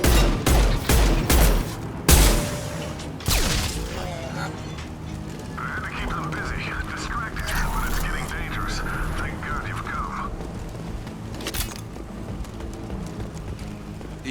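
Gunfire in the video game Mass Effect 2: a burst of sharp, loud shots in the first seconds, then sporadic distant blasts over a busy battle-noise bed, with voices in the background.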